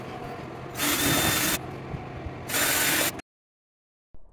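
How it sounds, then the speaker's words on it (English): A power drill bores holes during a DreamLine French corner shower door installation, two loud sustained bursts of whirring grind separated by a pause, then an abrupt stop into silence. "Drill bit."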